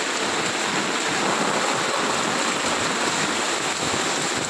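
Flood water rushes along a village footpath in Kankavli during torrential monsoon rain. A loud, steady roar of flowing water continues unbroken, with no talking.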